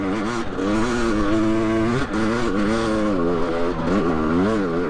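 A Yamaha YZ250X two-stroke dirt bike screams up through the gears, loud and close, its engine note climbing, dropping at each shift and climbing again with no voices.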